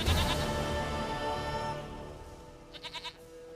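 A goat in The Witcher 3 gives a short, quavering bleat near the end, following a fading wash of game ambience and music.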